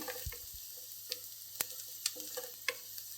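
Sliced onions fry in a pan for a mixed vegetable curry, a continuous sizzle punctuated by sharp spatula clicks and scraping stirs, close and alone without talk.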